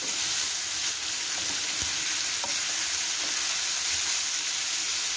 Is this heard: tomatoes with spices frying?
yes